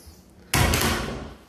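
Double closet door in a bedroom of a high-end apartment building, one sharp close or slide at mid-clip that fades out over about a second, fairly loud and near, with no talk.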